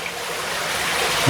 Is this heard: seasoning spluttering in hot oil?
no